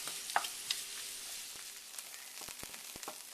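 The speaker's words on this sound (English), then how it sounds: "The butter's melted, so now I'm just going to add these onions. And they're going to saute until they're soft" Onions sautéing in melted butter in a soup pot, a steady soft sizzle with a few faint crackles and light taps of a utensil.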